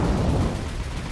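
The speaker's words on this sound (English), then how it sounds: "Oh, heard a nice explosion there." A distant explosion rumbles through a naval battle in the War on the Sea game, a dense low boom sustained over about a second with no voices.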